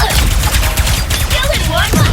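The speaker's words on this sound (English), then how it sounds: "Watch out for rapid fire!" Rapid automatic gunfire in the video game Ratchet & Clank: Rift Apart, a dense continuous burst of shots with explosive game effects layered over it, loud and sustained throughout.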